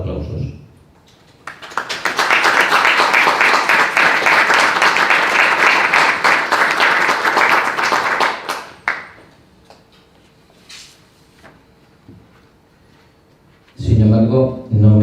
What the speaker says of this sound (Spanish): Para todos ellos quería dar el mayor de los aplausos.